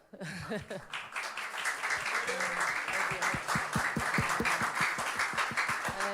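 A congregation at a Tuesday church service claps together in a sustained round of applause, steady and fairly distant, with voices rising along with it.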